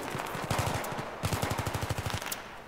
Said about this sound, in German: Jetzt werden wir gerade geschossen.